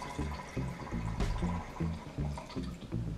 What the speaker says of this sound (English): when you go to pour, you're gonna hear a very distinct kind of like guggling sound, and that's actually it doing its job